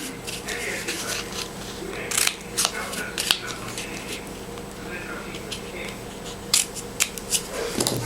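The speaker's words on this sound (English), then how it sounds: "you just have to use your scissor, or if you want to do with a cutter," Scissors cut paper for a picture frame insert, giving soft, quiet snipping and rustling with several distinct sharp snips in scattered bursts.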